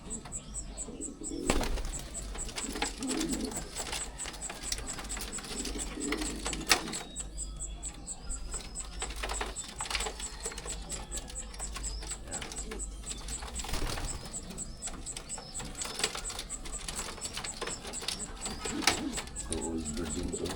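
Racing pigeons coo softly inside an overnight training box, with low burbling calls repeating under a busy backdrop of clicks and rustling, while people talk nearby.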